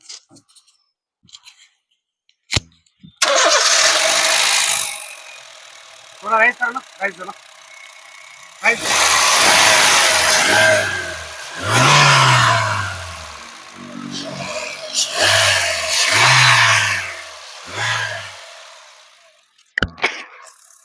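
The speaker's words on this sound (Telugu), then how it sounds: "నేను ఇంజన్ అయితే స్టార్ట్ అయితే చేపిస్తా ఉన్నాను, చూసుకోవచ్చు మీరు" A Honda City car engine cranks and catches, then keeps running with a low hum while someone talks over it.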